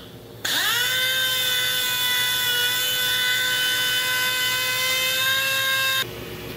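A dual-action (DA) sander whirs steadily as it sands the edges of a guitar neck, a high tonal whine that starts abruptly, holds at a constant pitch for about five seconds, then cuts off, heard close up with no talking.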